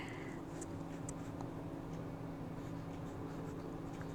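An Opus 88 Coloro fountain pen in red writing on paper, a soft continuous scratching with faint tiny ticks of the nib, quiet and close against a low steady hum.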